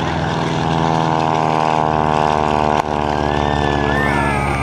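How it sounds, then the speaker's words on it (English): Airshow PT-17 biplane with a 300 horsepower supercharged Lycoming engine and variable pitch propeller runs at full power, a loud steady harmonic drone with a brief dip midway, heard close. "Mike the Builder bringing that PT-17 with a 300 horsepower supercharged Lycoming engine"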